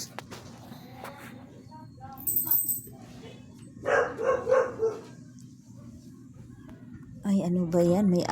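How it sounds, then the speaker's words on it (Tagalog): A dog barks in short, sharp bursts at a distance during a Baptist day anniversary gathering, with a few yips standing out against a quiet background and people's voices talking nearby. "May aso."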